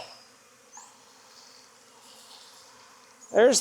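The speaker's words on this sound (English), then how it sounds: "Bees really don't like this, so you might get stung doing it." A low, steady honey bee buzz hums in the background throughout, ending with a brief loud rustle up close.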